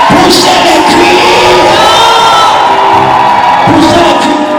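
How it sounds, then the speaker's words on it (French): A church congregation shouts and cheers together during a charismatic worship service, a loud dense wall of mixed voices with whoops rising and swelling throughout, no single voice standing out. "Poussez les cris."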